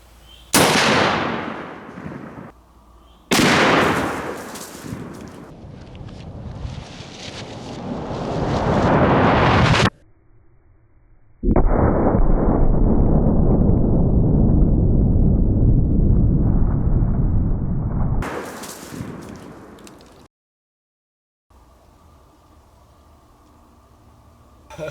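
Gunshots blasting through two cinder blocks at an outdoor shooting spot: several loud, sharp reports with long roaring decays, separated by pauses, ending in quieter rumble.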